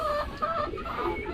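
Backyard chickens cluck softly nearby with short, irregular calls over a low background murmur.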